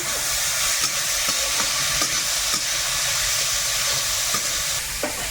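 Prawns fry in a hot pan with onion and garlic, giving a steady, loud sizzle and hiss with occasional soft stirring clicks, and no talk.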